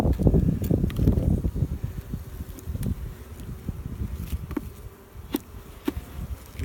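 Honey bees buzzing around an opened hive holding honey frames glued with propolis: a steady, close swarm drone with brief wind buffets and occasional soft knocks.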